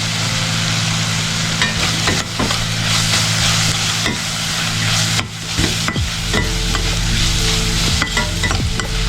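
Onion frying with chili and turmeric powder for a red lentil dal hisses in a loud continuous sizzle, with regular spatula scrapes and stirs against the pan, close up and without voices.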